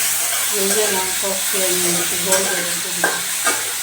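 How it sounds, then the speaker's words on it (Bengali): Baim eel fish frying in mustard oil, a steady close sizzle with stirring and a few spatula taps, under background music. "সরষের তেলে বাইম মাছগুলো ভালো করে ভেজে নিতে হবে"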